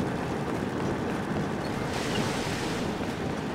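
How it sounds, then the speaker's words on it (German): Water pouring from gargoyle spouts in Zelda: Tears of the Kingdom, a steady, dense rushing wash that holds constant throughout with no pauses, loud and close, with no talking over it. "Das sind Wasserspeier."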